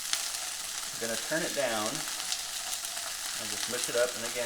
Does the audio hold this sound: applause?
no